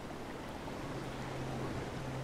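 Rushing waterfall water on the Zora river in a Zelda video game, a steady, dense broadband roar holding constant for a couple of seconds with a faint low hum underneath and no voices.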